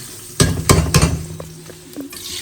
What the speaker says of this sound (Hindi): इसका लगाने लगी हूँ इसको तड़का क्योंकि आयल आपको पता ही है गरम है